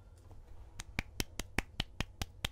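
Quiet, light clapping: about ten soft, evenly spaced claps over a low background hum.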